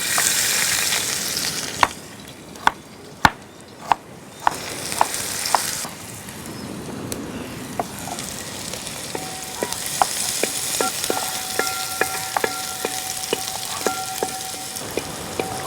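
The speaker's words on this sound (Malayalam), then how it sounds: "എണ്ണ ചൂടായെങ്കിൽ ഉള്ളി ഇട്ടോട്ടാ" Onions hit hot oil in a village kitchen pan for butter prawns, setting off a steady close sizzle broken by sharp clicks and utensil knocks, with stirring sounds and spitting oil continuing throughout.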